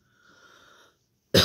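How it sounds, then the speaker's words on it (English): A single sharp, loud cough bursts out at the end after a faint hum, with no speech. "Of course, I'm gonna cough now"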